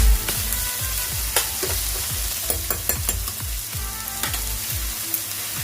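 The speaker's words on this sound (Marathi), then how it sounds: "कांद्याला लालसरपणा येईपर्यंत आपण याला फ्राय करणार आहे" Onions frying in a pan for Manchurian: a loud, continuous sizzle of hot oil, broken by irregular scraping and tapping as the onions are stirred, with no talking.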